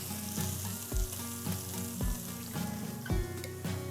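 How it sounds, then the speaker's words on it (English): Scallops searing in a hot skillet, a loud continuous sizzle close by, with sharp pops and a few clanks of the pan and utensil against the stovetop. "Now be very, very careful putting these into the skillet because it's going to pop back at you."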